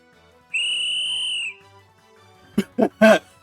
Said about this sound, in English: I blow the whistle Toyama gave me as hard as I can